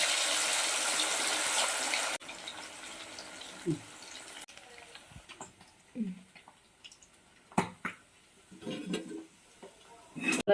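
Sardines dropped into hot oil in a pan for pickle give a loud burst of hiss that settles into quieter, irregular sizzling and crackles, with some talk between.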